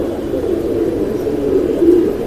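Pigeons in a home loft of about thirty-five racing birds, giving a continuous low, close cooing with no voices.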